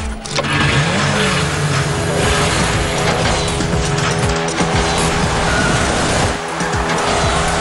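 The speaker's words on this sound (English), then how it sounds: "Get ready for speed, tricks and crazy courses in the new iOS game Rocket Cars" Racing cars roar and screech their tires in the iOS video game Rocket Cars, a loud, continuous wash of engine drone with repeated skidding squeals and mechanical clatter throughout.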